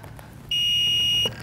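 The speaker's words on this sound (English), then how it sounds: "You'll hear one beep when it turns on." A Lincoln Electric Viking 3250D powered air-purifying respirator gives a single clear electronic beep as it switches on, a steady high tone lasting under a second over a quiet background.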